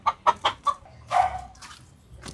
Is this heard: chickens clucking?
yes